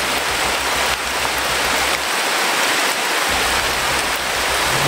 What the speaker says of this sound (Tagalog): Malakas yung ulan, tol.